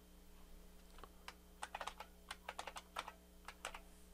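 A password typed on a computer keyboard at an Ubuntu login screen, a quiet close run of irregular key clicks in quick bursts over a faint steady hum.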